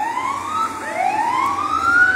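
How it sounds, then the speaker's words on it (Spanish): Ambulance sirens wail as emergency vehicles arrive at an emergency scene in Santa Lucía del Camino, Oaxaca, with two overlapping rising tones sweeping steadily and growing slightly louder over a low street rumble. "Comienzan a llegar las ambulancias."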